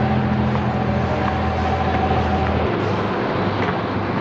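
A boat engine runs flat out as a steady, loud, continuous drone with a low throb, holding for several seconds with no voices over it.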